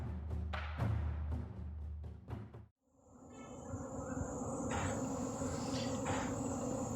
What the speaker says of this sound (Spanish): dejar que se escuche el sonido de este enjambre.